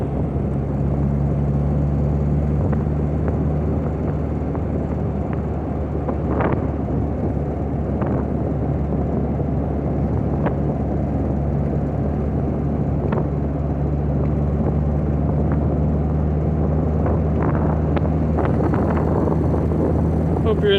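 A steady, loud drone of an MG TF sports car cruising at about 35 mph, engine and wind rumble filling the cabin continuously with occasional small knocks, heard from inside the car.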